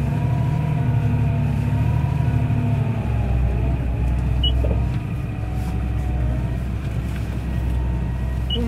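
A Massey Ferguson 7720S Dyna-VT tractor drives along with a steady low engine rumble and drone, heard from inside or close by, with no talk over it.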